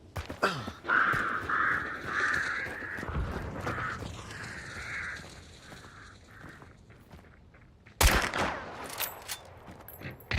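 Gunshots in the video game Hunt: Showdown, with sharp broadband cracks near the start, around three seconds and a loud blast at eight seconds, set among cawing crow calls and creaking ambience.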